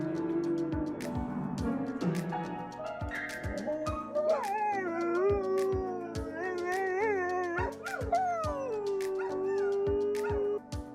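A dog howls and yips in long, wavering tones over a steady series of piano notes, the melodic howling rising and falling with the keys, loud and close, with no talk.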